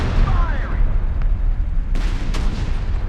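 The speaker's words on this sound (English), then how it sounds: "Alright, here comes the Sherman. There it is. Alright. Fires a single shot." Sherman tank firing one shot in the video game Company of Heroes 3, a single heavy boom rolling over dense low battle rumble, with faint talk beneath.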